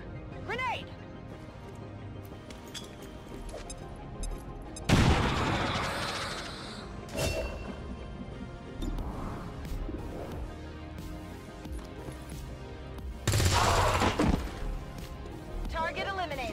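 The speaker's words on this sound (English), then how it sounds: "Grenade!" In an XCOM battle, two sharp, loud bursts of a grenade blast and gunfire crash out several seconds apart, with voices talking through most of the stretch between them.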